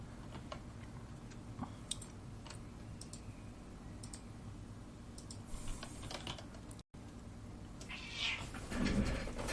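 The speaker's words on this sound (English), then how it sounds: "it's when he just sits there and meows at me" A cat meows a few times in a quiet room, short faint cries over soft keyboard typing and ticking, with a louder burst near the end.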